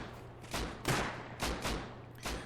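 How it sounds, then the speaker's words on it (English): Distant gunfire from a mountain ridge in the video game Rust: about five separate cracking shots with reverberant tails, spaced irregularly over a couple of seconds and fairly faint. "So now we see some gunfire coming from the mountain ridge up there"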